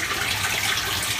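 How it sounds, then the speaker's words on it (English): Water gravity-feeding from fish tank tubes down through pipes into an aquaponics sump tank, a steady broadband rushing and trickling that holds even and fairly loud throughout the short stretch. "The gravity feeds from those tubes down through these pipes here into the sump tank."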